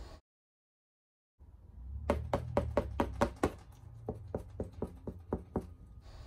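Knuckles knocking on a hardened, dried paper mache ice cream cone, a burst of about ten quick crisp hollow raps followed by a slower run of lighter taps, close and clear with no talking.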